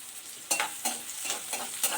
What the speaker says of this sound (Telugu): కరివేపాకు పోపులో వేసి వేయిస్తుంటే మంచి కమ్మటి వాసన వస్తుంటుంది